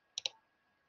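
Computer mouse clicks, two quick close clicks in near silence.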